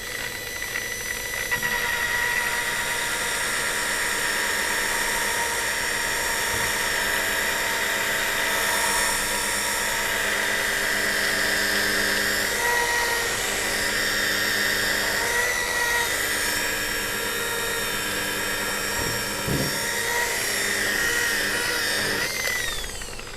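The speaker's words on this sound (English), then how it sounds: "Now I am going to do the polish for the headlight." A car headlight is buffed with a polishing machine: a continuous whining motor drone with high squealing tones that shift slightly in pitch as the pad works the plastic, steady and close throughout with no talking.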